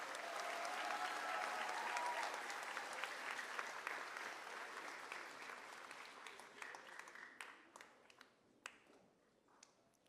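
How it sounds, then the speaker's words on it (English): Audience at a fifth grade moving-up ceremony applauds a class, a loud dense wash of clapping that gradually thins into scattered individual claps toward the end. "Can we have a round of applause for Miss Guitar's class?"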